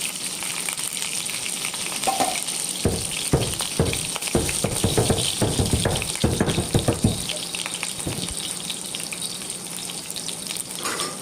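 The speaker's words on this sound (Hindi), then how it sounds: "लहसुन को अच्छे से भून लेना है" Garlic, cumin and green chili fry in hot oil with a steady sizzle, and a cluster of scraping and stirring clatter rises through the middle of the sizzle.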